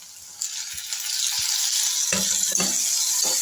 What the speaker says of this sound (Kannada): ಈರುಳ್ಳಿ ಸ್ವಲ್ಪ ಫ್ರೈ ಆದರೆ ಸಾಕು